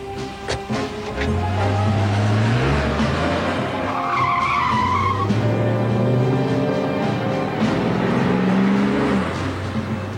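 Car tires squeal and skid repeatedly during a chase in an action film, loud sweeping screeches rising and falling over an engine roar, with a brief higher whine in the middle.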